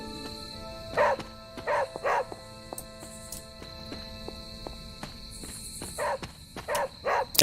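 Charlie, the dog in Marvel's Midnight Suns, barks in short groups of two or three, with pauses between them, over a quiet hum of game ambience and insect-like chirping.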